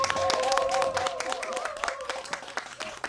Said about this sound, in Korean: 우리 천양희 시인께 박수로서 환영의 인사를 하도록 하겠습니다.